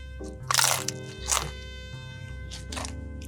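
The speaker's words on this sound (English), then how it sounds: "They definitely toasted it good, so this is gonna be super crunchy" Two loud crunchy bites into a toasted bacon snack wrap, followed by softer chewing crunches, close and unaccompanied.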